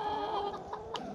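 Backyard chickens near a new dust bath give a few soft, short clucks beneath a steady layer of dramatic music.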